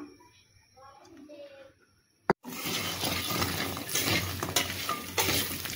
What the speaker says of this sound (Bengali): তুলে নিয়ে লাউটা এখন হালকা করে ভেজে নেব। একটু তেল দিয়ে দিলাম